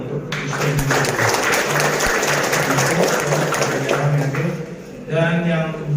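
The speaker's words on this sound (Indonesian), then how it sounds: "tepuk tangan dulu dong untuk season" Audience clapping at a journalists' association inauguration ceremony in a hotel, heard as a dense patter beneath someone speaking over a microphone, with a short break near the end before the applause resumes.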